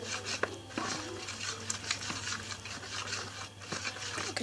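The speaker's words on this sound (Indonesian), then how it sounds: "Kita aduk sampai merata." Purple homemade slime mixture with a little liquid soap being stirred in a bowl, soft wet scraping and sticky rubbing with light clinks of the utensil, quiet and close.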